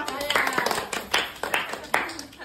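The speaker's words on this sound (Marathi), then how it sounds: "टाळ्या" A small group claps for a game winner, brisk uneven hand claps over a couple of seconds, close by, with people talking over it.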